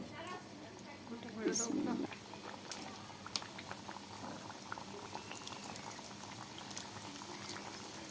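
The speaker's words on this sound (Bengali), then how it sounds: "আমি অল্প আঁচে সিঙ্গারাগুলোকে এপিট ওপিট করে ভেজে নেব।" Liver-stuffed singaras dropped into a deep pan of hot oil, frying over low heat with a steady close bubbling and sizzling that swells briefly near the start, then settles into a constant crackle; a voice speaks over it.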